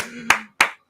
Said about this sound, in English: I didn't mean to clap.